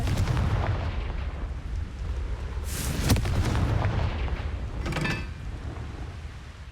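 Confringo fire spell blasts in Hogwarts Legacy, heard as a couple of sharp explosive bursts over a dense, rumbling game background.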